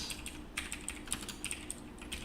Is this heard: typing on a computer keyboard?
yes